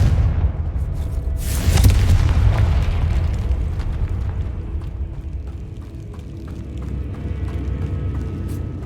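A Confringo fire spell explodes in Hogwarts Legacy with one loud, deep boom that trails into a long, low rumble, and no one speaks.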